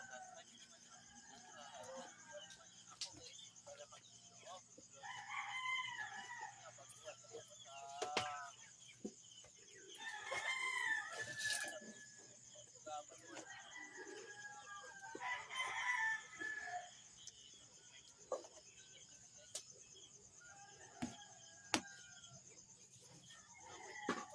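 Chickens cluck and call at a moderate distance, with a rooster crowing among them and occasional sharp knocks in a quiet outdoor setting.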